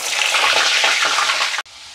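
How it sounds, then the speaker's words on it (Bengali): Potatoes frying in oil for biryani give a loud, close, hissing sizzle that runs steadily before cutting off abruptly, followed by a quieter hiss; no one speaks. "আমি একটু আলুগুলো প্রথমে ভেজে নেব"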